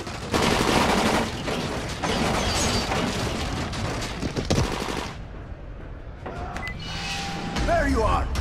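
Dying Light video game gunfire, with dense bursts of rapid automatic shots and booms for about five seconds, then quieter game sounds. Voices shout over the shooting.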